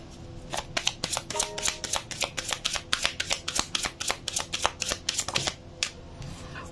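Tarot cards are shuffled by hand in a rapid, continuous series of crisp riffling flicks that stay close and fairly loud throughout, with no talking.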